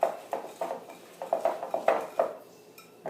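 A brown sugar mixture for chocolate butterscotch squares is whisked in a bowl, giving a run of close, uneven clinks and scrapes of the whisk against the bowl, with a short pause near the end.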